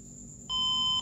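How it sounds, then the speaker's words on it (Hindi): A desktop computer gives a POST error beep at power-on: a single sharp, loud electronic beep lasting about half a second over a low hum. "तो यहाँ पे कंटिन्यूसली 4 बीप आती है"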